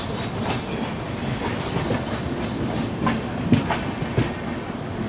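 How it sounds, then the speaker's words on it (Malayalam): A BEML-built metro train rolls along an elevated track overhead just outside a station, its wheels clicking and rumbling steadily, with a few sharper clacks and a faint squeal as it passes. "ഇതേ പോകുന്നു മുകളിൽ കൂടെ മെട്രോ ട്രെയിൻ."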